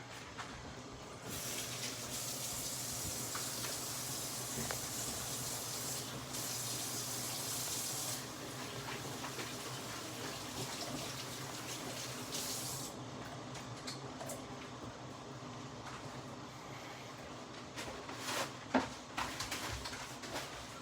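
Tap water runs steadily into a sink while hands are washed in a kitchen during soup preparation, a continuous close hiss with small splashes and clinks, no talking.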